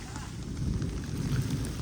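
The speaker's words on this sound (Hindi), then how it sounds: "आज बारिश की शिद्दत इतनी ज़्यादा थी" Steady heavy rain pouring down on a village, a dense low rush of falling water with no voices, constant and fairly near throughout.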